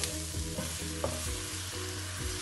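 Masala and tomato frying in a pan as they are stirred, a dense continuous sizzle with a low hum beneath and soft periodic scraping, close but fairly quiet, without speech.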